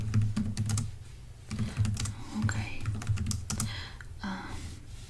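Fast, uneven keystrokes clatter on a computer keyboard in short bursts with brief pauses, close and fairly quiet in a calm indoor room, with no voices.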